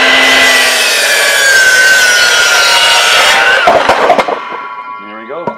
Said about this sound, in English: We'll cut that in half